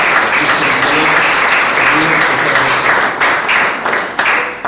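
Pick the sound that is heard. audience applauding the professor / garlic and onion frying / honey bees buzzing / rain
audience applauding the professor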